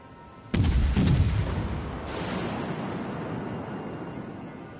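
Torpedo hits on a ship in World of Warships: a sudden heavy boom followed by a second impact and a long rumbling, wash-like decay, with no voices.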